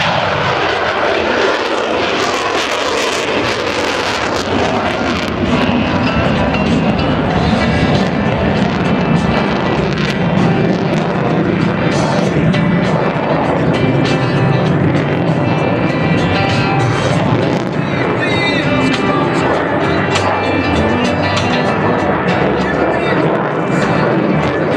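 A large aircraft roars through a flying demonstration at the 2009 Paris Air Show at Le Bourget, its jet engines loud and sustained throughout with wind buffeting, a continuous powerful rumble that swells and shifts as it passes.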